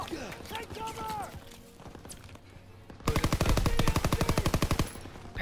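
Machine gun fire in the Call of Duty WW2 campaign, from an MG in a farmhouse hayloft: loud rapid bursts of automatic fire break in after several seconds of game ambience and voices, hammering on to the end.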